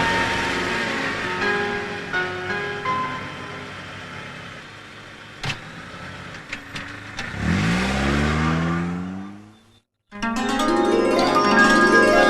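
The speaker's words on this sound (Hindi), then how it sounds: "पासा की गाड़ी आ गई" A car pulls up at a rural Rajasthani family gathering, its engine swelling loudly as it nears and revs, then cutting out briefly before more sound resumes over a background of music.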